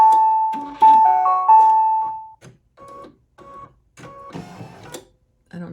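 A Brother VE2300 embroidery machine signals a finished design with a run of short electronic beeps and tones. Brief mechanical clunks and whirs from the machine fall between the tones, all close and clear.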